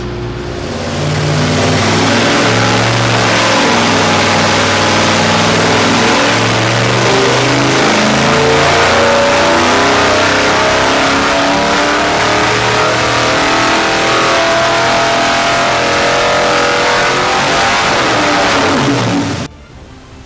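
Small-block Ford V8 with factory iron heads revving hard on an engine dyno, a loud, steady, close roar that holds for nearly twenty seconds before cutting off abruptly, with no talking.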